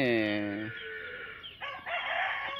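Native country roosters crowing on a farm in Kadapa, one long harmonic crow up front, then fainter overlapping crows and clucking from other birds near and far.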